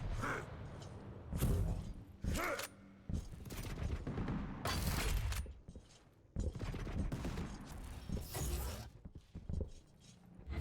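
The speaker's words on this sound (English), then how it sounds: "those rockets are full on hitting Maxter" Rockets hitting a player in a fast competitive video game match, a rapid series of loud, sharp blasts and bursts with mechanical clatter in between, with no talk over it.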